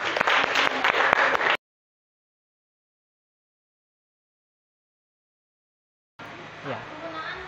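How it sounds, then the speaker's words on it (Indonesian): A classroom group applauds for group 3's presentation in a short burst of clapping that stops abruptly, followed by silence and then a voice speaking. "Tepuk tangan untuk kelompok 3."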